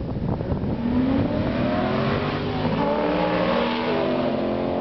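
Corvette C5 and Corvette C4 ZR1 dragsters line up at the start of a drag race, their engines revving loudly and continuously with rising and falling pitch.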